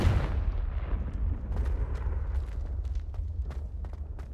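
A Confringo spell blast in Hogwarts Legacy bursts out as a fiery boom, followed by a sequence of crackling pops and bursts that trail off over steady low game ambience.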